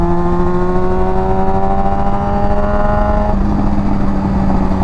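Honda F4i sport motorcycle fitted with a Radiant Cycles Shorty GP exhaust, accelerating hard with a loud, steady, rising engine note that holds through a gear change, recorded close and continuous with no talking.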